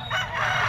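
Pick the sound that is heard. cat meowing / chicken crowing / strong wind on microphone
chicken crowing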